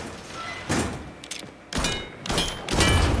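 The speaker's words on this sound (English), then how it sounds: "Explosions are, well, they're like this." Explosions in the video game Mafia III: three or four heavy, booming blasts burst in sequence, each a sharp loud hit trailing into rumbling debris.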